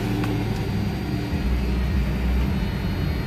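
A 1995 Toyota 4Runner engine runs close by with a steady, loud low rumble whose pitch shifts partway through. No voices are heard.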